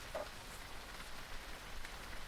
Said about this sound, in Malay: Eh, ni hujan ni